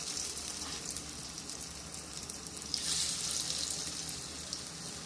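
Paniyaram batter frying in hot oil in a paniyaram pan, a steady bright sizzle throughout that swells slightly midway, close and continuous with no talk.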